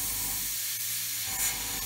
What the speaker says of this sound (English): I think this green is spraying better than the brick red